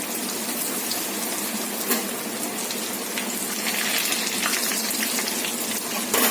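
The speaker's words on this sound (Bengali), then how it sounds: "তো এইভাবেই এপিট ওপিট করে ডিপ ফ্রাই করে নেব।" Cutlets deep frying in a kadai of hot refined oil over lowered gas, a steady broadband bubbling sizzle that holds evenly throughout with a few brief sharper crackles.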